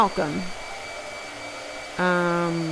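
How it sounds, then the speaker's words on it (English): A hair dryer blows on wet painting paper, its motor whining as it winds down, then starting up again loudly for a steady close roar. "This is going to be a long blow dryer, guys."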